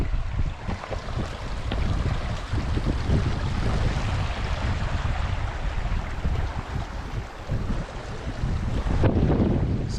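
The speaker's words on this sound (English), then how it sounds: "I'm sure it's super windy" Strong wind buffets the microphone at an outdoor campsite in a national park, a loud continuous roar and rush that carries on for the whole stretch with no voices.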